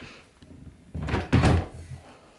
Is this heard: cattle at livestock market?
no